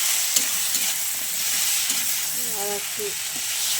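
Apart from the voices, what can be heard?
frying puti fish with onion and tomato, stirring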